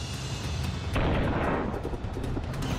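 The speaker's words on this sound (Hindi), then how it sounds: "समंदर के बीचों बीच जैसे ही वो गिरता है जोरदार धमाका होता है" A missile launch and blast over the sea near a maritime border, heard as a dense, broadband roar that surges louder partway through and holds as a heavy rumbling wash.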